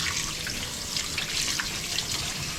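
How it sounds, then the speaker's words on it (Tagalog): Tap water runs steadily into a kitchen sink while spring onions are rinsed under it, a close, continuous splashing hiss with small trickling variations and no talking. "Hugasan natin itong ating spring onion."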